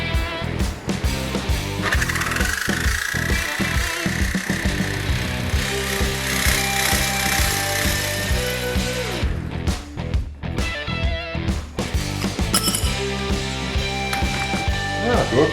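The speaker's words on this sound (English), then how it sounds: "I'm going to try the jigsaw, let's see how that goes." A jigsaw cuts a round hole in steel plate for a custom instrument cluster, producing a loud, close, rapid rattling buzz with uneven pulses and brief pauses as the blade works through the metal.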